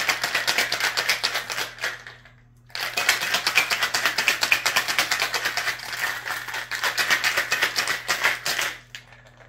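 A cocktail shaker holding a Crown apple sour with ice is shaken hard in rapid rattling bursts, with a short pause partway through and then more steady, loud shaking.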